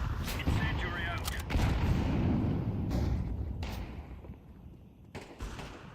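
A grenade and an incendiary go off in the shooter Counter-Strike 2 as several thumping gunfire-like bursts at moderate level, spaced across a few seconds amid continuing game noise.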